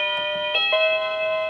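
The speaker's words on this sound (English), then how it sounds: "It's like a regular doorbell." A Tecknet wireless doorbell chime rings out a couple of bright, sustained tones that ring on and fade slowly.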